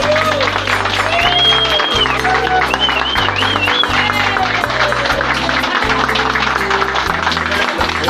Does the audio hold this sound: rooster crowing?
no